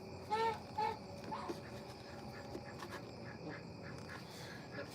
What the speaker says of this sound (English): I purchased these ducks.